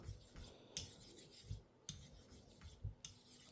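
A German hollow grind straight razor drawn across a shaped honing stone, giving soft, rhythmic rasping strokes roughly once a second, quiet and close with short scraping peaks at each pass.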